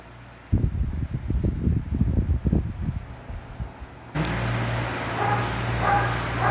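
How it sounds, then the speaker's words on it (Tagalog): An electric fan runs indoors with a steady whirring hum that becomes louder and fuller partway through, following a stretch of irregular bursts that fit a dog barking nearby. "May electric fan."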